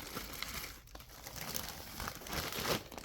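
Crinkly plastic bags of mango pieces for a green smoothie are handled close by, giving off soft, irregular crackling and rustling that swells and fades over a few seconds.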